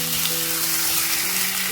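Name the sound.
meat frying in garlic ginger paste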